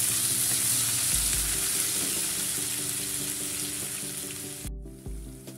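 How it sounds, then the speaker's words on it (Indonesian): Ground spice paste sautéing in hot oil in a wok, a continuous bright sizzle with low scraping strokes of a spatula, close and fairly loud, briefly cutting out near the end before resuming; no one speaks. "sudah panaskan minyak, tumis bumbu yang diulek"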